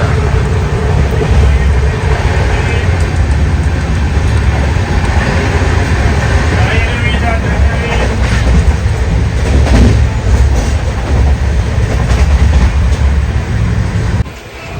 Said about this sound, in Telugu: ఎందుకంటే చాలా నిదానంగా వెళ్తుంది ట్రైన్